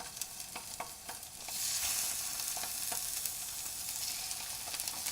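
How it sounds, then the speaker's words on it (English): Chicken seasoned with salt and pepper sizzles in a pan for tinga tacos, a steady close hiss that swells louder partway through, broken by occasional clicks and scrapes. "we're going to cook the chicken. Salt and pepper on it, and we put that side down first."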